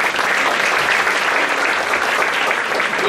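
A church congregation in Peru applauds for the Lord, a dense, loud, continuous wash of clapping with no pauses throughout.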